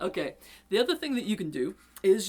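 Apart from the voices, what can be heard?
No everyday noises stand out.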